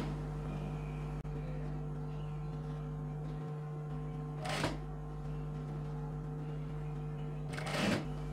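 A sewing machine hums steadily as it stitches the pleats of a pattu pavadai skirt, a low continuous whir with two brief louder bursts of faster stitching partway through.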